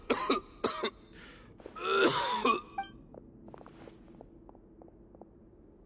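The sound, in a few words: character coughing in Genshin Impact video game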